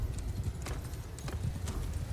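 Hooves of cavalry horses in the game Bannerlord clatter in quick galloping clip-clop bursts, moderately close, with faint battle noise underneath during a short, busy stretch.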